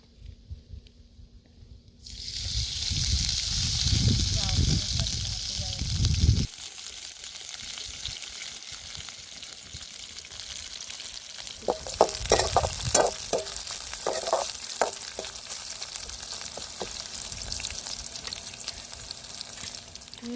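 Onion frying in oil in a pan on a wood-fired stove: a loud sizzle bursts in after a quiet start, then settles into a steady crackle with scraping stir strokes and clinks in the later part.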